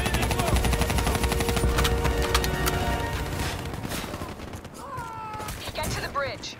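Rapid machine-gun fire in Call of Duty Black Ops 3 rattles in dense sustained bursts during a combat mission, loud and close, fading somewhat toward the end as voices call out over it.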